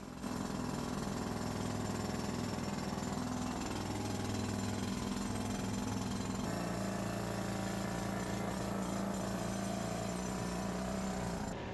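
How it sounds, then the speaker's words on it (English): A water-fed pneumatic rock drill hammers continuously into rock underground in a gold mine, a dense, steady rattling clatter, faint and alone with no talking. "The drill uses some water. It gets pushed down the steel, so it keeps the dust down."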